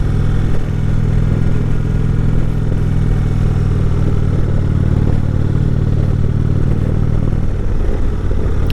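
A motorcycle climbs the road up Mt. Washington with a steady, loud engine drone and heavy wind rush, continuous and unbroken throughout with no talking.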